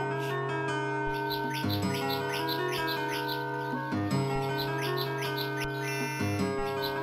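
Birds chirp in rapid, repeated high tweets in the PC Engine CD game Beyond Shadowgate, layered over steady tonal game music throughout.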